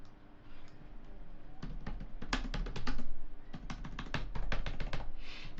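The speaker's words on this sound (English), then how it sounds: "Okay, this keyboard works." Fingers type on a computer keyboard in quick irregular bursts of sharp clicks, close and fairly loud, with short pauses between flurries and no voices.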